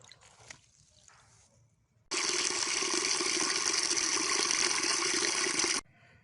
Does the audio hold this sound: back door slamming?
no